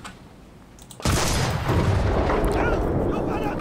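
A single heavy cannon shot from a Jagdpanther tank destroyer in the Enlisted game fires with a sudden loud boom, then a long rumbling roar that lingers; faint speech sits beneath the blast.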